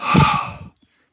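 One audible breath pushed out by a person, a close, breathy exhale lasting about half a second that fades into silence.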